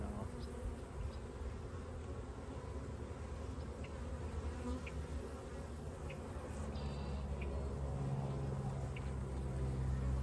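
Honeybees drone steadily inside a beehive that holds little activity, a continuous close buzzing hum that swells slightly toward the end, with no talk over it.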